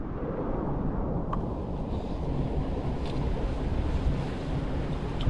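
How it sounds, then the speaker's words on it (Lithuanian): Out on the open sea near Svalbard in the Arctic, two-to-three-metre waves and a 25-knot wind keep up a steady, loud, broadband rush of surf and wind buffeting the microphone aboard a sailboat, with no talking. "Bangos"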